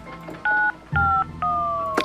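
A dying phone battery in the video game Nancy Drew: Warnings at Waverly Academy gives three clean electronic two-tone beeps, each held a little longer, with the last sliding slightly downward, loud and close.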